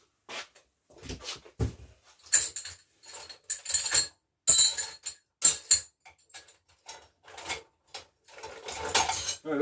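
A metal pedal spanner being handled during work on a Raleigh Chopper Mk2 bicycle, giving scattered bright clinks and taps in short irregular bursts with quiet gaps between them.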